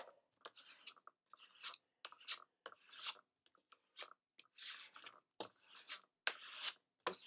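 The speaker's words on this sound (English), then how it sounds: "I'm going to burnish and spread that glue out evenly" Soft, rhythmic rubbing strokes from a burnishing tool spreading glue across a flipped-over keepsake box, repeated short scrapes close up and fairly faint.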